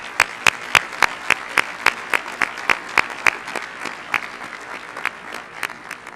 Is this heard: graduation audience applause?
yes